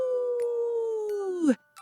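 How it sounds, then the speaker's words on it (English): A single sustained, high-pitched wolf howl holds steady and loud, then bends downward and breaks off sharply, with a faint tinkling at the end. "3 high-pitched, happy wolf howls"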